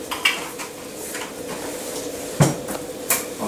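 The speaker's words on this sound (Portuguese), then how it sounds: "Vamos esmagar aqui o alho, deixar fritar aqui um pouquinho o alho." Crushed garlic frying in olive oil in a sauté pan, a soft sizzle under sharp clanks of a utensil knocking against the pan, one loud strike standing out.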